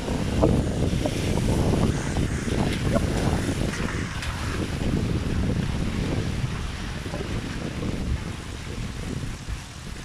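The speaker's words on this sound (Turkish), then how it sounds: "Şimdi derenin üstüne tutuyorum telefonu." The Hacı Ahmet stream in Balçova flows just below, a continuous broadband rush of water that stays loud and steady throughout.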